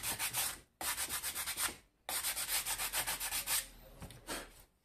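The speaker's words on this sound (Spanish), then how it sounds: "vamos a lijarle un poquito." Hand sanding of a 3D printed plastic part, rapid rhythmic back-and-forth rubbing strokes in two long runs with short pauses, close and crisp, no voices.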